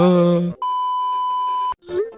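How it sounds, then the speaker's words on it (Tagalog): A phone chimes once with a single steady electronic tone announcing an incoming text message, heard clearly after a voice speaking and before more talk resumes. "Pre, nag-text si Mashiho oh"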